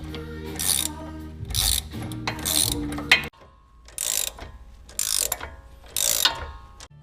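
A ratchet tightens quick disconnect bolts while fitting a Rock Krawler 2.5-inch lift kit on a 2015 Jeep Willys, a series of close, loud clicking bursts separated by short pauses.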